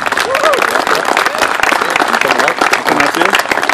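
An outdoor crowd at a sports field dedication applauds the McCarty family, loud mixed clapping and cheering with voices calling out over it throughout.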